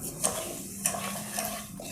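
Sugar is stirred into water in a pan, a soft steady scraping and swishing with a few light clinks of the utensil against the metal, close and quiet with no talking.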